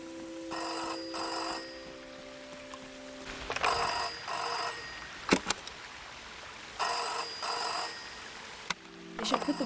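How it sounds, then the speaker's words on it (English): An in-game telephone in SEASON: A Letter to the Future rings in repeated bursts of bright bell trills separated by short pauses, clear and up close, with faint background tones between rings. "They should put the voice in the ringing sound."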